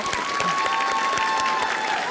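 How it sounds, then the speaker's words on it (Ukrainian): Dense, steady applause from a TV singing show audience fills the whole moment, loud and continuous with no pauses. "оплески нашому бенду"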